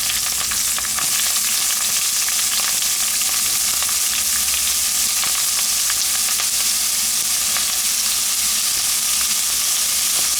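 Onions and green chillies fry steadily in a pan for a fish stew, a dense, even sizzle with faint crackles running close and unbroken from start to end, with no voices.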